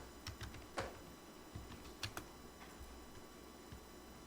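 A few scattered keystrokes on a computer keyboard, typed in short bursts while searching code in a Unity ML-Agents project, faint and close over a steady low background hiss, no voices.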